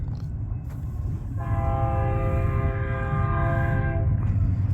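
A freight train rumbles past near Goffs, California, its horn blaring a long sustained chord over the heavy rolling din of the cars, close and loud.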